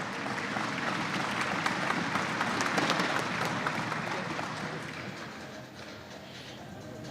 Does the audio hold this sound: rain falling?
no